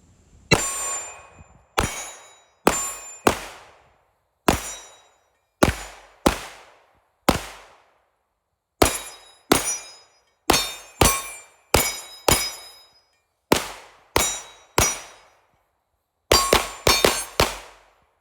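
Pistol shots ring off steel targets, about twenty sharp cracks each followed by a bright metallic clang, fired in quick strings and pairs with short pauses, loud and close, from a soft-shooting competition pistol.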